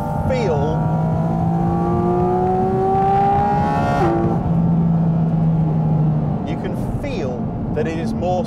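A Porsche 718 Cayman GT4 RS drives on a public road, its engine loud and close, with pitch climbing steadily through the revs, a brief break at a gear change, then building again.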